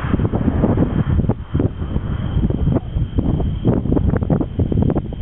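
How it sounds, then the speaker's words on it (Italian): Steady wind blows across the open Piana del Sibiola plain at sunset on a hot day, a continuous rushing roar with gusty swells and rustle that fills the whole clip, close and fairly loud, with no voices. "il vento colpisce il nostro viso e ci rinfresca in una giornata di caldo"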